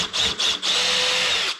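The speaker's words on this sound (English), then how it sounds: "So I'm just drilling it in there so I don't have too much splittage or breakage in my wood." Power drill pre-drilling holes in 3/4 inch thick wood for a conibear trap box, a close, loud whine in three bursts: two short runs, then a longer sustained spin before stopping.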